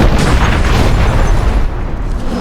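Cannons fire at a cluster of crystals in the video game Dungeon Siege III, producing heavy, rumbling booms that roll together into one loud, sustained blast-and-debris roar with no clear gaps and no speech.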